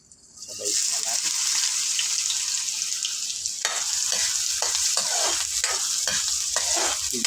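Garlic and onion hit hot cooking oil in a pan for pork bopis, sizzling loudly and steadily after a quiet start, with occasional stirring scrapes and a voice speaking underneath.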